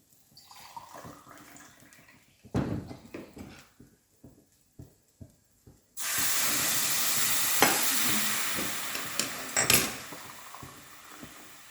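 Small stirring clinks and taps in a pan of fried rice for basanti pulao give way to a sudden loud rush of water poured in, followed by a sustained steaming hiss and sizzle.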